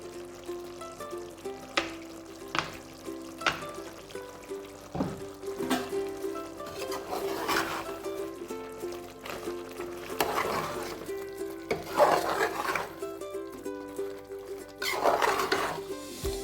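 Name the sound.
stirring chicken gravy with coconut and curry leaves in pan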